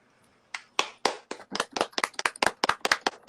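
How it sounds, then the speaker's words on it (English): Audience clapping and applause greeting an interview guest: silence, then a few individual claps that quickly build into a brisk, close, uneven run of hand claps from a small group. "Everybody, give her a round of applause"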